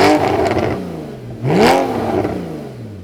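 Porsche 981 with a full Armytrix exhaust, valves opened, revving: two sharp throttle blips that rise and fall, loud and close, with a raspy engine note and no talk.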